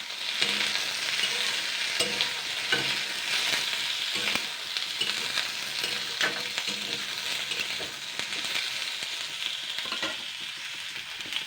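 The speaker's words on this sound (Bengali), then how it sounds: "এবার আমি এগুলোকে জাস্ট দুই মিনিট ধরে নাড়াচাড়া করে নেবো" Vegetables being stirred in a hot pan, a steady broad sizzle of frying with repeated scraping strokes of a spatula throughout, close and fairly loud, with no voices.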